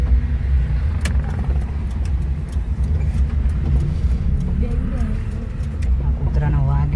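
A car drives along with a steady low rumble, carrying an injured dog to the animal hospital, while people talk over the engine and road noise throughout.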